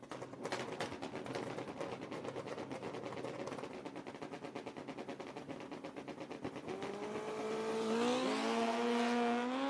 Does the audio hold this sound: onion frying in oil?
no